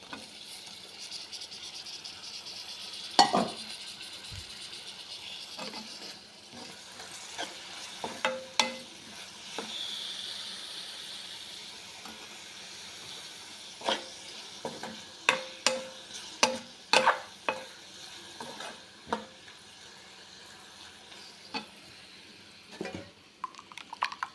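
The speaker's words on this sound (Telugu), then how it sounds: "ఈ పీతలు కూడా వేసేద్దాం." Crabs go into a pan of crab curry seasoned with chili powder, then fry with a steady low sizzle broken by scattered clicks and knocks of stirring; close and fairly quiet, with no voices.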